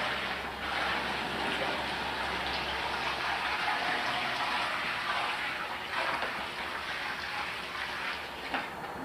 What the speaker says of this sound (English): what we're going to do is pour some of this acid in the water, add it slowly